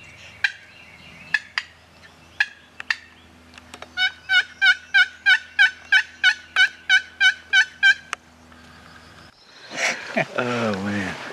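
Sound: wild turkey gobbling

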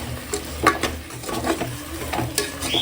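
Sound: mutton nalli bones frying and being stirred in a pan

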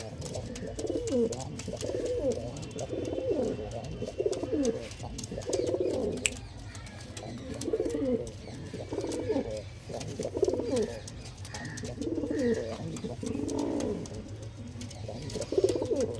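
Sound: pigeons cooing

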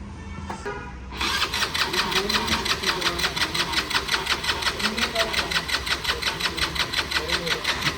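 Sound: Bullet motorcycle engine trying to start

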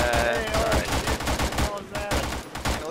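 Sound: G3 battle rifle gunfire, from a video game (ShackTac)

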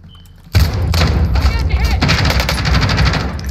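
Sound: gunfire in the video game Warzone

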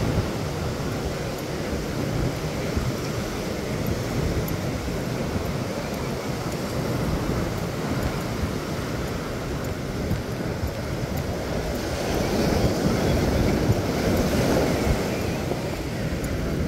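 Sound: waves on the beach at Playa de Rosarito

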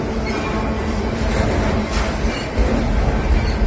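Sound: freight train with GP60M locomotive passing

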